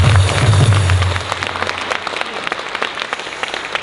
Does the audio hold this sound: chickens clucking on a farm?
no